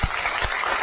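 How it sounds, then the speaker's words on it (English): A keynote audience applauding Apple employees: dense, loud clapping from a large crowd, filling the whole short stretch without a break. "I'd just like to give them a round of applause"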